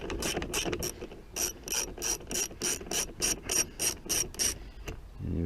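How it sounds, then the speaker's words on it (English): Ratchet turning out a Torx screw on a BMW door during front window regulator replacement, a quick burst of clicks followed by about a dozen steady, evenly spaced ratcheting strokes, close and with no talk. "Got one more Torx screw there, so we need to remove that one as well."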